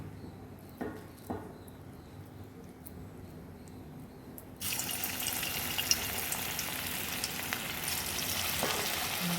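Vegetable pakora batter drops into hot oil in a wok, and after a few quiet seconds of faint kitchen clatter a loud, steady sizzle and crackle of frying takes over and continues without any talk.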